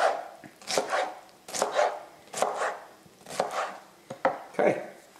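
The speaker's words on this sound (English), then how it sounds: "so I've cut up the pineapple" A knife chopping pineapple on a cutting board, about seven to eight firm thuds in uneven succession, close and alone without talk.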